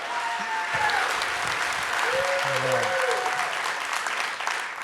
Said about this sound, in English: Let's give him the biggest applause.